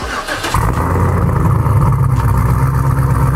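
A Cadillac CTS-V engine cranks and catches, then settles into a loud, steady running rumble close by.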